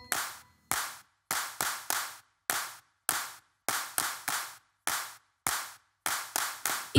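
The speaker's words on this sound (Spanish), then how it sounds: "Esta última vez, solo aplaudan." Sharp, isolated hand claps keep time in a children's song, about a dozen crisp claps in an uneven rhythmic pattern with silent gaps between them, close and clean with no voices.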